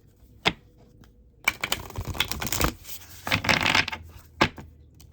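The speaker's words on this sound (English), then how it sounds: "We're going to shuffle one more time." Tarot cards shuffled by hand up close, with bursts of rapid riffling and a few sharp taps and slaps between quieter pauses.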